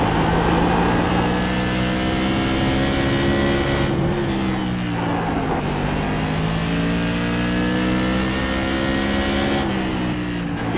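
Race cars circling the short oval at New Smyrna Speedway, engines howling at speed in a steady, loud drone, with pitch rising and falling as cars shift gears and pass.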